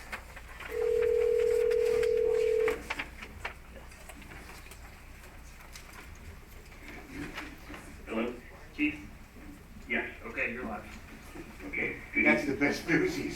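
A single steady telephone tone sounds alone for about two seconds as a phone line is dialed into a town meeting call, followed by scattered voices, rustling and room noise in the meeting hall.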